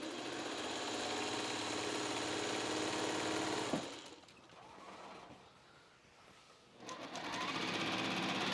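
Stitching a seam on a quilt strip, a sewing machine hums in a long steady run, pauses briefly into quieter clicks, then starts up again, close and alone.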